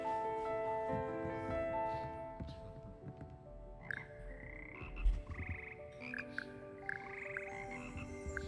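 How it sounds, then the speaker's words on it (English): Frogs of the Frog Choir in the Hogwarts Legacy video game croak in a steady chorus over sustained musical tones, with a louder croak near the middle and rising, sliding calls later. "Here perch the slimy yet symphonic frogs that comprise the Hogwarts Frog Choir."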